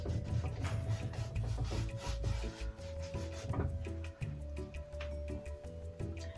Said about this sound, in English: I don't want, I'm just kind of rubbing it in a little bit.